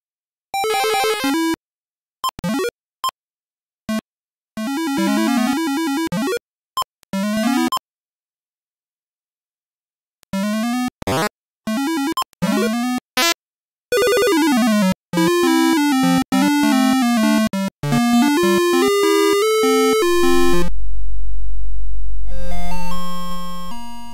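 Atari 5200 port of the Mario Bros arcade game plays harsh beeping chiptune sound effects and short melodic jingles in bursts separated by silences, ending with a low buzzing tone.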